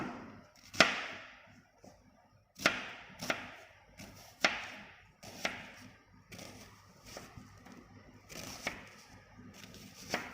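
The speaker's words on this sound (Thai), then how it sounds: "ขั้นตอนต่อไปหั่นหอมหัวใหญ่เลยค่ะพี่น้อ" Irregular sharp knocks of a knife chopping an onion on a cutting board, about a dozen chops spaced unevenly, close and fairly crisp with quiet pauses between.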